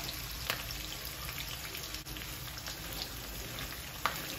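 Curry leaves, garlic and green chillies fry in hot tempering oil, producing a continuous crackling sizzle with a few sharp pops and no voices.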